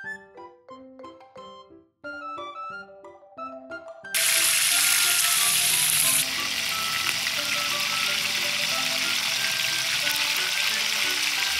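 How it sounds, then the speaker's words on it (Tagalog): Fish frying in hot oil in a pan: after a few seconds of clinking and handling, a loud, dense, continuous sizzle takes over and holds steady to the end, close and alone. "Nilagay ko na nga rin pala itong mantika para maprito na itong isda."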